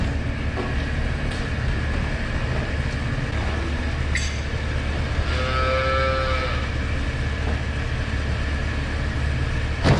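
A calf on a farm lets out a drawn-out moo partway through, sounding against a steady, loud rumbling background drone on a cold day.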